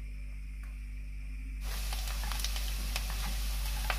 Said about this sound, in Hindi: मक्खन हमारा मेल्ट हो गया, अब इसमें प्याज ऐड करते हैं।